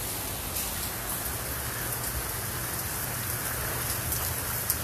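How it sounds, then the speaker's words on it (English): Steady rain falling outdoors on a rainy Southern California morning, a dense, even hiss of drops on surfaces that holds constant throughout with no voices. "Look at this beautiful rainy day"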